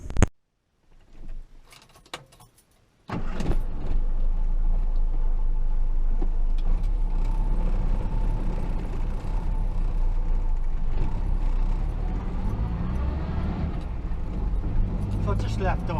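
Phebe, a Morris Minor, pulls away after a few clicks and clunks of the door and keys, then its engine drones steadily and loudly at close range as it drives along a country road, with some speech over it.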